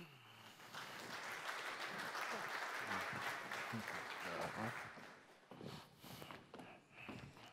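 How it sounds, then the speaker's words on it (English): Conference audience applauding a panel introduction at an event on African airport infrastructure, a dense steady clapping lasting about five seconds before thinning into scattered claps and faint murmurs. "So please give him a big round of applause."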